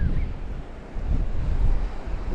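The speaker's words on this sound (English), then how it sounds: "Here's the Indian Ocean. Like a very greeny type colour today. Nice bit of surf waves here." Surf waves of the Indian Ocean along a foreshore, a loud steady wash of breaking water mixed with gusty wind rumble on the microphone, continuous throughout.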